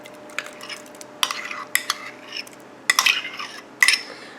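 A spoon stirs cottage cheese into lasagna inside an Instant Pot, with intermittent scraping strokes and sharp clinks against the metal insert and quiet pauses between them.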